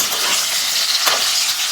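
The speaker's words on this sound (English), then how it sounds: "we are going to quickly saute these capsicum" Capsicum sautés over high heat in a pan for a potato and capsicum curry, making a brief, bright, continuous sizzle with a faint stirring scrape near the middle.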